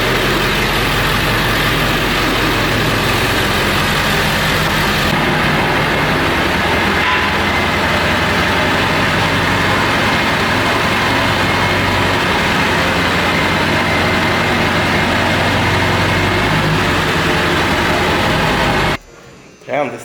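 A diesel truck engine with an exhaust leak idles loudly and steadily, a heavy continuous rumble that fills the scene before cutting off abruptly near the end.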